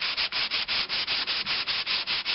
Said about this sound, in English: I decided that I'd go ahead and hand sand these